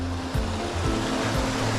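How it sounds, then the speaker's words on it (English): Brook water flowing over rocks on a hike to a waterfall area, a steady broadband rushing wash heard close and continuously, with a faint low rumble and no speech. "This brook is just beautiful."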